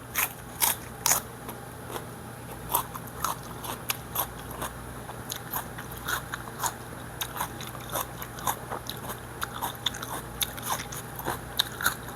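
Raw onion eaten alongside Korean sweet potato stem kimchi and rice: crisp, crunchy bites and chewing repeat in an irregular rhythm, close and clear over a low steady hum, with no talking.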